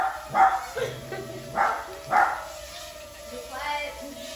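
Several dogs bark in short bursts at mid distance, three or four clustered yelps spread across a few seconds, outdoors where a small Parrot Mambo drone is being flown.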